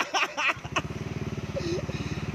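Yamaha Aerox scooter engine fitted with an SKR racing exhaust, idling close by in a steady, fast pulsing throb for a couple of seconds after a brief burst of talk at the start.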